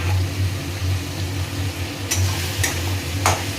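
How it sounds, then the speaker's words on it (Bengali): Chopped tomato goes into a hot pan and is stirred, making a steady sizzle with a low hum underneath and a few sharp spatula scrapes near the end. "তো এবারে আমি টমেটো কুচিটা দিয়ে দিচ্ছি।"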